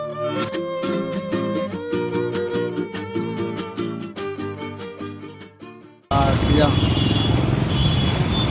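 Road traffic noise on a Surat street near Lake Garden, a steady loud wash of passing vehicles and engines that bursts in abruptly in the last couple of seconds after a stretch of music.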